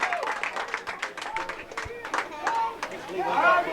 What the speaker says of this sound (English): Vidalia fans clapping because they put up a 20th run